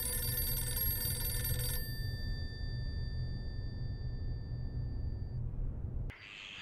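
Telephone ringing in a quiet room: a bright, tonal electronic ring sustained for nearly two seconds, then a long fading decay into low background hum, ending with an abrupt cut to another sound.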